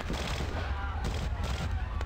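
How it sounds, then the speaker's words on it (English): Bursts of rapid gunfire crackle in quick succession over a dense, rumbling background in the video game Vampire: The Masquerade – Bloodlines. "you're not even hiding or freaking out about the the nightmare gunshots happening right now"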